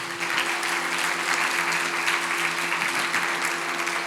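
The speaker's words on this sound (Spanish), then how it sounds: "aplauso así una vez más." A church congregation applauding during a Sunday service, a loud, even roar of clapping from many people held at steady volume throughout, with a low steady hum beneath.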